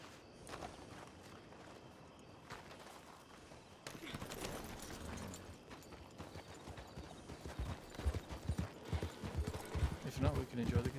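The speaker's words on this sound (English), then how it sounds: "I heard at least one horse" Horse hooves in a video game clip-clop at a walk, soft at first and growing louder and more rhythmic toward the end, with faint voices in the background.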